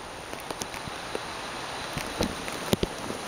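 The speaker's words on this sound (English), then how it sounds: "Raining a little consistent right now." Light, steady rain falling outdoors in southern Alabama during Hurricane Isaac, a soft continuous patter with scattered louder drops close by, and no talking.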